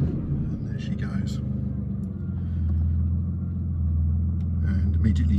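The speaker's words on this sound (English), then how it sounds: "Basically gives you a relatively subdued sort of growl, kind of rumble at low RPM" A 2005 Aston Martin Vanquish S idles in neutral just after starting, its exhaust giving a steady, subdued low growl close by, with someone talking over it throughout.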